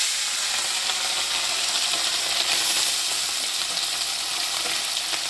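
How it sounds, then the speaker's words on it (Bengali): Turmeric-coated white fish pieces frying in hot oil in a kadai, a dense, steady close-up sizzle and bright crackling hiss that holds evenly throughout. "আমি হালকা করে ভেজে নেব। তেল গরম হয়ে গেছে।"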